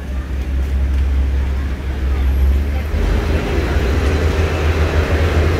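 A local diesel railcar, train 427 on the Nakhon Ratchasima to Sikhoraphum line, pulls out of Tha Men Chai station, heard from inside as a strong, continuous low rumble and drone that grows rougher as it gets under way, with faint voices.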